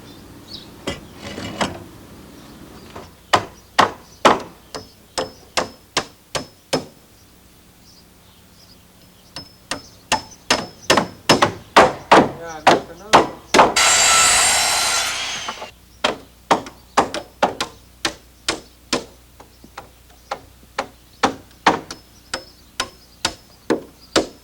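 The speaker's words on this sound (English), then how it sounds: "we'll nail galvanized sheet metal strips over each joist to protect the wood structure from moisture deterioration" Nails are hammered through galvanized sheet metal strips into wooden deck joists in long runs of sharp, close, evenly spaced blows, paused briefly twice, with a loud burst of rustling or scraping in the middle.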